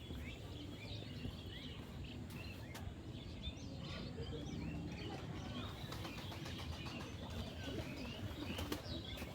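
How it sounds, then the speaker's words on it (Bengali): Flock of pigeons at a Bangladeshi theme park, wings flapping repeatedly amid a steady wash of outdoor crowd noise, with faint cooing at most. "এখানে অনেকগুলো কবুতর দেখা যাচ্ছে।"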